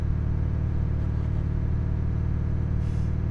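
A stock truck engine from Euro Truck Simulator 2, rumbling steadily at cruising speed with a deep, continuous low drone and no talking.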